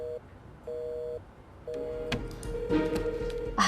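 Telephone tones come through a handset: two steady beeps separated by pauses, then a longer tone as handling clicks and rustles join in, ending with a brief louder burst, all fairly quiet.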